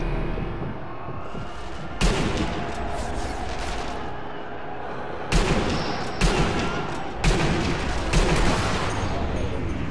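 Heavy gunfire in Sniper Elite V2, aimed at a tank, sounds as dense, continuous bursts throughout, with loud sharp volleys around the middle and near the end.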